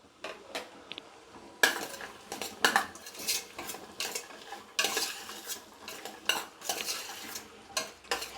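Tomato and peas fry in oil and ghee for Hyderabadi bagara rice, heard mostly as repeated metal spoon scrapes and clanks against the pot over a faint sizzle.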